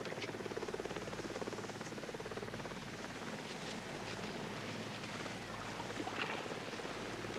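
Helicopter hovering over the 1983 Oxford versus Cambridge Boat Race on the river, heard as a steady, faint, rapid rotor chop with a distant droning hum throughout, no voices.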